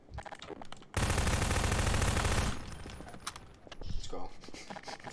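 A rapid burst of automatic gunfire rattles for about a second and a half in a Nextbots video game, followed by scattered clicks and quieter game noises as players talk.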